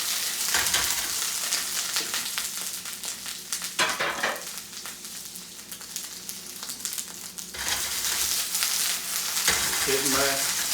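Prosciutto-wrapped salmon frying in a pan, a close steady sizzle with brief scraping and stirring noises and a few louder bursts, and no voice heard.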